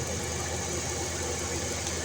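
Car engine idling steadily under the hood with the air conditioning on while the idle throttle screw is loosened, a continuous close mid-pitched running drone with no talk.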